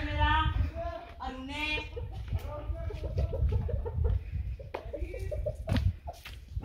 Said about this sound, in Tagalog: Mga manok ng aking mga kapatid.